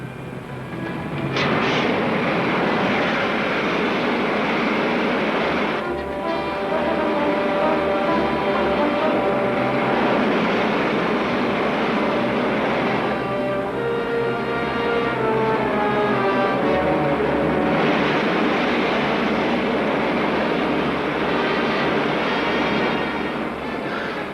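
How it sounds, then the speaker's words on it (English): Rocket jets on a flying craft in an old film serial roar as a steady loud rush with rumbling and whining tones throughout, close and unbroken, with no voices. "Fire pilot jets. Firing main jets."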